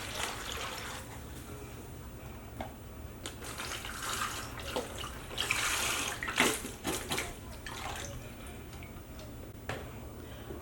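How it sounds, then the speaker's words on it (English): Beef broth is poured into freezer bags for Instant Pot freezer meals, a soft liquid trickle and splash swelling in the middle, with light plastic rustles and clicks around it, fairly quiet and close. "I'll stick these in the bags, and then I'm going to pour in 2 cups of beef broth."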